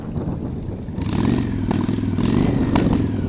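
A Honda Shadow 750 street bike's engine rumbles at idle, then revs up louder and stays throbbing, with a light clatter on top, close by and alone.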